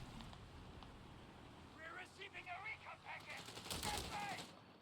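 Faint machine gun fire crackles in short bursts in a Company of Heroes 3 battle set in Tunisia, partly masked by steady commentary.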